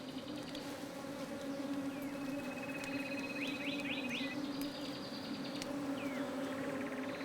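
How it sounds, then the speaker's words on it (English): Bees buzz at a nest built inside an abandoned burrow, a steady droning hum throughout, with a few faint bird chirps over it. "the bird leads them to an abandoned burrow in which the bees have built their nest"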